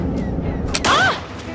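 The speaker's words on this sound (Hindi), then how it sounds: "ये तो फायर की आवाज है।" A single gunshot fired from a freshly loaded handgun indoors, a sharp loud crack with a short ringing tail standing out from low background noise.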